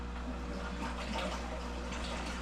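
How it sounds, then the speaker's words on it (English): A seaweed growing tank with an aerator bubbling and water circulating through a chiller gives a continuous watery rush and gurgle over a low steady hum, close and constant with no talking. "You will also see that the aerator will start to bubble."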